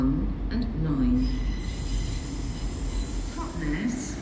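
An IET intercity express train runs through Ashchurch for Tewkesbury station, a steady low rumble of wheels and rail noise holding throughout with faint higher squeals, under occasional talk.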